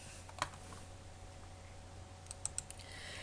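A few soft, sparse keystrokes on a computer keyboard while entering a command in a C++ program, faint clicks spaced out over quiet room tone.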